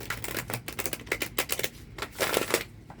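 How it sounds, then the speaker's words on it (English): Tarot cards are shuffled in quick riffling bursts, a rapid series of crisp papery flutters with short pauses between them, close and fairly soft, with no talking. "So I'm just going to shuffle 3 times"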